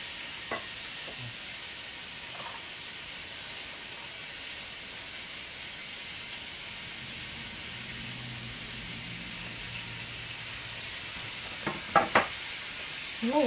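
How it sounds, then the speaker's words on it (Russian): Chopped onion frying in a pan on a village kitchen stove gives a quiet, steady sizzle, a soft continuous hiss with a few sharp clicks and knocks near the end. "Слышите, наверное, шкварчит."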